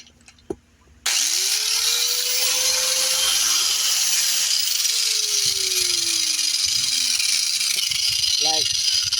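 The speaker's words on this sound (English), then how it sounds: "This grinder is a warrior." Bench grinder with its own grinding wheel sharpening hedge trimmer blades, spinning up to a loud, steady whine that holds throughout, with a brief pitch sweep and scraping contact noises.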